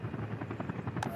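A helicopter in the city-building game Workers & Resources gives a steady, close rotor thump with rapid rhythmic pulsing over engine whine, alone and fairly quiet.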